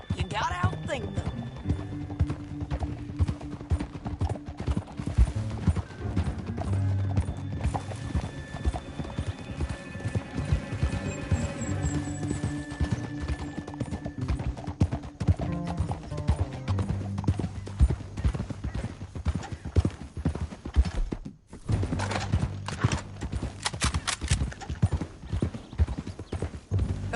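Horse hooves clip-clop in a steady rhythm throughout, with an occasional whinny and background music in a Red Dead Redemption 2 game scene.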